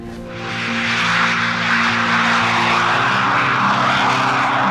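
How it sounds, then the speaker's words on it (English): A de Havilland Sea Vixen twin-boom jet fighter roars past, its loud engine noise swelling from a fade-in to a sustained, rumbling drone with a steady broadband rush. "De Havilland Sea Vixen"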